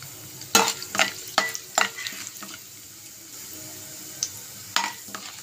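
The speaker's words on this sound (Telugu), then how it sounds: "ఇప్పుడు పోపులు వేసుకోవాలండి. పచ్చెనపప్పు, ఆవాలు, జీలకర్ర వేసుకొని" Chana dal, mustard seeds and cumin hit hot oil for tempering, giving a soft background sizzle broken by several sharp stirring scrapes and spatters close by.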